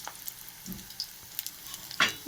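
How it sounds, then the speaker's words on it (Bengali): Fritters frying one at a time in hot oil, with soft crackling sizzle and a sharper spit near the end; quiet and close, no talk. "আমি এক এক করে ভাজবো।"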